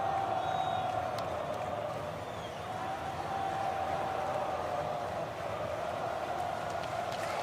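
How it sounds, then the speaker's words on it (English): A dense, steady roar of crowd cheering fills the whole stretch at a marble race, a continuous wash of many voices with no pause. "The crowd is going absolutely crazy."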